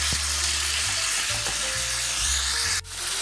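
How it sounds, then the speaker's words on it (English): Seasoned ground beef sizzles in a pan as it cooks, a continuous close crackling hiss with faint low scraping from stirring. "all we're going to do is mix it and let it cook in"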